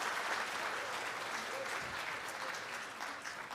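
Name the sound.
audience applause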